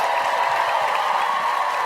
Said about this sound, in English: Clap it up for yourselves one more time